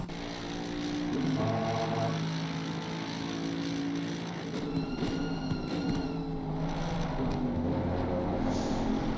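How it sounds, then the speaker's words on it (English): Mercedes race car engine in a racing video game at Spa, a sustained droning engine note with shifting harmonic pitch as revs rise and fall, steady and continuous without talk. "the engine sound from the Mercedes"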